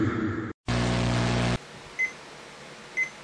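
A Memorex projection radio alarm clock gives two short, thin electronic beeps about a second apart, fairly quiet, after a brief burst of louder buzzing.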